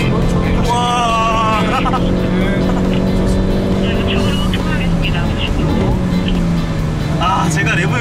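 A Hyundai Veloster N accelerating hard around the Inje Speedium circuit, its engine droning loud and steady with rising and falling pitch from in-car, while people talk over it throughout.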